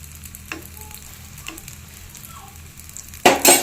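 Neyyappam fries and puffs up in hot oil, a steady crackling sizzle heard close up. A few soft pops break through, and a louder burst of spitting oil rises near the end.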